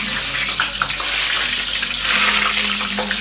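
Tap water runs steadily over a piece of scotch bonnet pepper in a kitchen, a close, continuous hiss and splash with no talking.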